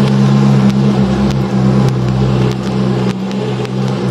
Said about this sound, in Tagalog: Ang ingay ng jeep.